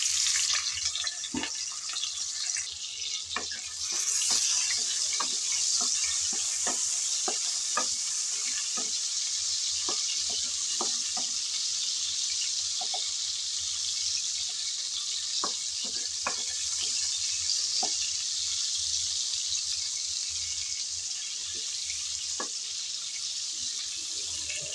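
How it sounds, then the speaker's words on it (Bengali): Prawns frying in hot oil in a pan, a loud continuous close sizzle with scattered crackling pops throughout and no voices. "এখন গরম তেলে চিংড়িগুলো দিয়ে দেব।"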